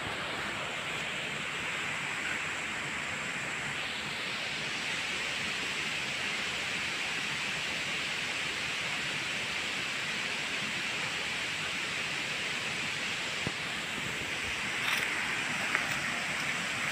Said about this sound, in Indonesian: Suara airnya telah kedengaran.